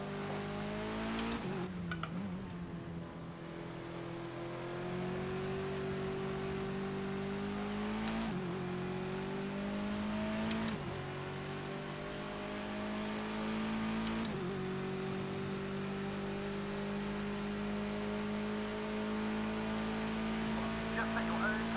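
A BMW touring car engine in Project Cars 2 at Silverstone holds a steady loud drone for the whole stretch, its pitch climbing through the gears with sharp dips at each upshift, and faint speech sits underneath.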